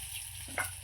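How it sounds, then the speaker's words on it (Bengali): Eggplant slices fry in hot oil, a short, close hiss with a brief scrape of stirring near the end. "বেগুন ভাজা হচ্ছে সবে"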